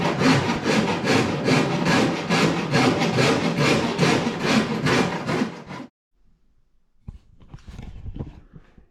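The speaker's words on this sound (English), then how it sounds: "I'm sanding this down with the old horse rasp" Wood is worked with an old horse rasp in quick, rhythmic rasping strokes, loud and close for about six seconds, then stops and is followed by faint handling noises.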